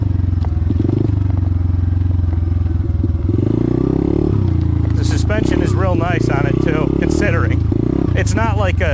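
A 140cc DB Tao pit bike engine hums steadily while being ridden easily, its low drone shifting pitch as the throttle changes, with someone talking over it for much of the time.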